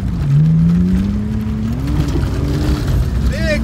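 An E36 BMW drift car on dirt revs hard during a clutch kick, with a loud rising engine note and tire and gravel noise, plus people exclaiming over it.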